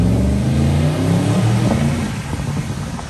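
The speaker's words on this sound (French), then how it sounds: "Il y a l'ami Julien Gauger qui va partir avec sa GTS." Porsche Panamera GTS pulling away outside the Carlton, a loud close engine note rising as it accelerates, then fading slightly as it moves off, with no talking.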